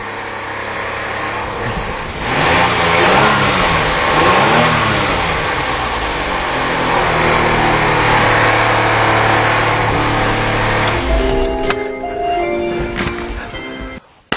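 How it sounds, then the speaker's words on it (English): A car engine with a dead cylinder idles unevenly and revs a couple of times, its rough, loping note running loud and close for most of the stretch before cutting off near the end. "you can definitely hear the dead cylinder"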